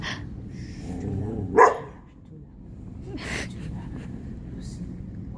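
A therapy dog gives a single sharp bark on a hand signal, loud and close, between stretches of a person talking.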